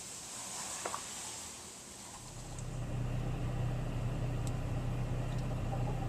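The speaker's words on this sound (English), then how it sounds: "I'll run the car and see if we can get a good pickup on the noise that this makes when the clutch fails on these." A Saab 9-3 with a failing A/C compressor clutch is running. After a quiet start with faint ticks, a steady engine hum with a low, even tonal whine rises at about two seconds and continues.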